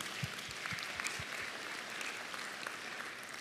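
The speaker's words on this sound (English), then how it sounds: "You can clap for that." A church congregation applauds, a dense, steady wash of clapping at moderate distance with no talking over it.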